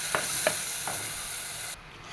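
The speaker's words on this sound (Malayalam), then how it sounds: "ഞാൻ ചെറിയ തീയിൽ വെച്ചിട്ടാണ് ഇത് വഴറ്റിയെടുക്കുന്നത്" Salted bitter gourd sautéed on low heat in a pan, with three soft spoon-scraping stirs over a faint, steady sizzle that cuts off near the end.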